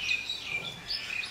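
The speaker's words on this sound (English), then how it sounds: "bird song that we can now hear all day" Native birds sing on an island, giving a few faint, high chirps and short tweets over quiet background.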